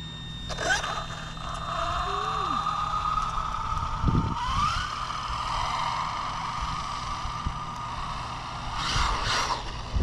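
A Traxxas Maxx Slash RC car fitted with a new motor races around an empty parking lot, its electric motor whining up and down in pitch with bursts of acceleration and tire scuffs over steady background noise.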